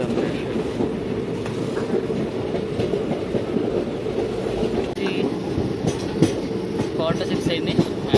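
An Intercity Express train from Cherlapalli toward Kazipet rolls along the rails with a constant low rumble and scattered clicks and clacks, heard from inside the moving train, with faint voices at times.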